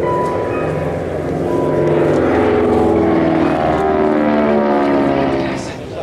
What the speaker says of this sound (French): vous allez voir la vitesse avec laquelle ce troisième Beechcraft va revenir rejoindre cette formation